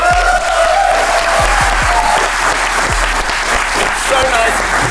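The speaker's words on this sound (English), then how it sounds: "It's so nice to have actual clapping" A live audience at a gaming event claps together in a loud, sustained round of applause, dense and steady throughout, with some voices audible in the crowd.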